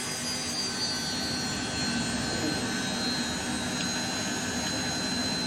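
Lockheed JetStar jet engines idling in Microsoft Flight Simulator, a steady, even whine with a continuous broadband rush and a thin high tone held at constant loudness throughout, with no talk.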